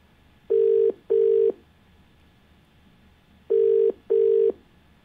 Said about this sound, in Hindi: कॉल लगाते हैं अपने पहले कॉलर को